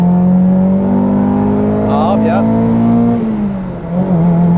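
Type-R swapped Honda Civic EK hatchback engine revving while driving, a steady loud drone that rises slightly then dips, heard from inside the car with brief talk over it.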